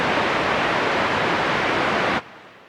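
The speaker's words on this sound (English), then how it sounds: "here I'm filtering it down into pink noise" Steady hiss of noise from an Ensoniq ESQ-1 or SQ-80 synthesizer, broadband and even, filtered toward pink noise, holding loud for about two seconds before cutting off abruptly to near silence.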